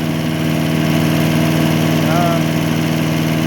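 An MTD chipper shredder with a 3.5 HP Tecumseh small engine idles, a loud steady close putter with a constant low hum and no pauses.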